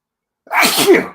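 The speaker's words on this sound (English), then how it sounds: "Oh, I'm gonna sneeze." A single loud, close sneeze: a sharp intake then an explosive burst lasting under a second, with no talking around it.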